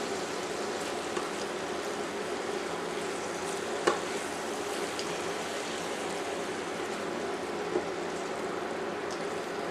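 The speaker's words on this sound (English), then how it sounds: "Stir the pulp into the meat mixture and cook for an additional 5 to 10 minutes." Chayote pulp and meat mixture cooking in a pan as it is stirred, a continuous soft sizzle and bubbling hiss at a steady level with a couple of faint utensil knocks, no talking.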